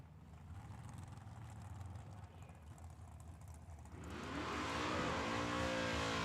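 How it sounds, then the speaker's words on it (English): A Monte Carlo drag car doing a burnout at Tucson Dragway, heard from a distance as an engine drone that swells about two-thirds in into a loud, sustained roar with rising, revving tones. "He just did a good burnout over here in a Monte Carlo color on the left hand side"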